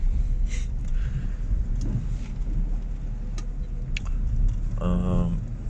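Inside a 2012 Geely Emgrand EC7 with 134,000 km on the clock, a steady road rumble and engine drone fill the cabin while driving, with light rattles and a brief chime near the end.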